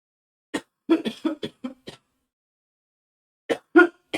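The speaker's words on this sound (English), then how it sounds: "I've had this cough. It just doesn't seem to want to go away." A close, dry cough from someone getting over quitting smoking, heard as two bursts: a run of several quick coughs, a pause, then a few more.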